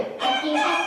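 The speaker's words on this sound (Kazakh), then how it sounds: "Атеш қалай дауыстайды екен, балалар?" A short rooster crow is played back from a recording in a preschool classroom lesson about birds, a single continuous call lasting under a second.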